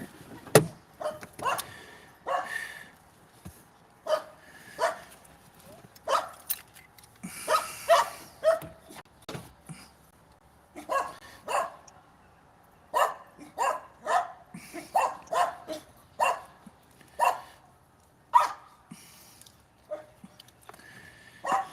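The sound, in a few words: dog barking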